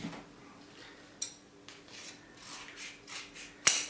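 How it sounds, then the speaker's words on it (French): Scissors cutting folded paper for a Japanese paper trick, a few soft close snips and rustles spread over a few seconds in a quiet room, with one sharper click near the end. "Et je vais couper comme ça."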